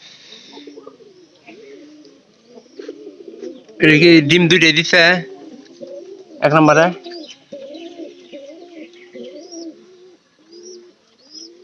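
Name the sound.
pigeons cooing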